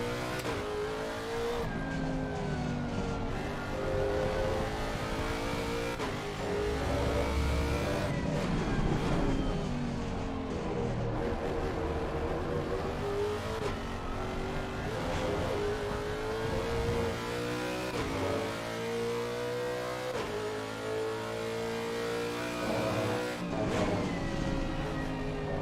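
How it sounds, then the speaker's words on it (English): A Porsche race car in Assetto Corsa Competizione, its engine screaming up through the gears in repeated rising pulls with brief downshift dips, loud and close throughout, with no talk. "the Porsche's speeding up"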